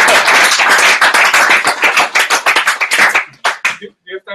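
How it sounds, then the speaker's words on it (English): Audience at a front-end web development talk clapping together, a dense burst of hand claps that thins into a few scattered claps before trailing off. "I think we can clap."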